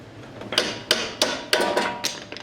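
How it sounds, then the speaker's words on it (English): Sharp metallic hammer blows ring out about once every third of a second, close and loud, with a few quicker taps near the end, striking a suspension link on an S550 Mustang. "hit it with a hammer, because that's always fun."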